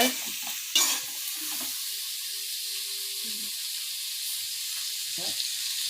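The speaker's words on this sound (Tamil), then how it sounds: "வெங்காயம் போட்டு நல்லா வதக்கணுங்க" Onions sautéing in a pan make a steady, bright sizzling hiss throughout, with a few soft stirring knocks and scrapes at the start and near the end.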